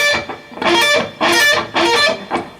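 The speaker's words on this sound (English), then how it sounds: "This is like a sweep concept." Distorted electric guitar plays a rake or partial sweep lick from a song, heard as four or five loud, close, bursting strums in a quick uneven rhythm, each ringing briefly before the next.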